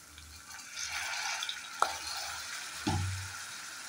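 Chowmein noodles stirred in a hot pan after vinegar, garam masala, chili flakes and oregano go in, giving a steady close sizzle with soft scraping and a couple of sharp clacks of the utensil against the pan.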